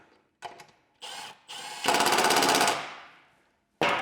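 A power tool drives fasteners into a Can-Am floorboard bracket in several short, close bursts, the longest a rattling impact-like buzz that winds down, with quiet gaps between each run.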